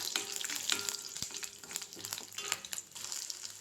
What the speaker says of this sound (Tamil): இது கொஞ்சம் பொரியட்டும்.